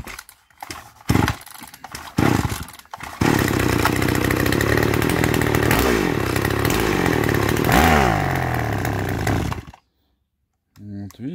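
A petrol chainsaw runs during carburetor adjustment with the mixture set too rich. After some knocks and brief bursts, the engine roars loudly and close, its revs swooping up and down, then cuts out abruptly near the end.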